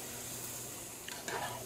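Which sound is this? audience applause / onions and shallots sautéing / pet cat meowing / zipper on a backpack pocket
onions and shallots sautéing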